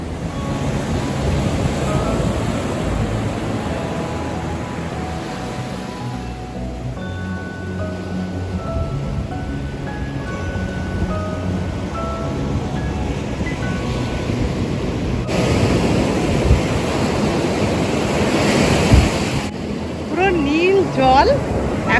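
Waves wash onto a sea beach in a continuous surf rush with wind noise on the microphone, while someone talks over it.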